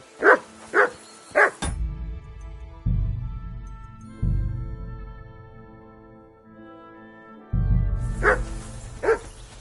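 A dog barks three times in quick succession, close and sharp, in the video game Kingdom Come: Deliverance 2, then falls quiet under a steady low musical hum before a few more barks return at the end.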